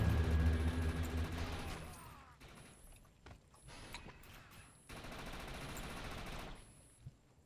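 Video game gunfire: rapid bursts of shots and clattering mechanisms, loud at first, then a quieter spell before another stretch of firing and a final sharp crack.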